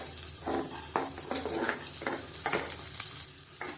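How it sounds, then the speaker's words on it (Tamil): Finely chopped onion frying in hot oil in a pan, a continuous close sizzle with periodic bursts of scraping and stirring noise. "இப்போ இதில் பொடியாக நறுக்கின வெங்காயம் சேர்த்துக்கலாம்."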